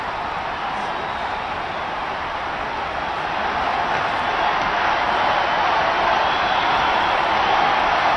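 A vast crowd packs St Peter's Square to greet the newly announced Pope, a steady, broad roar of massed voices and cheering that holds loud and unbroken throughout.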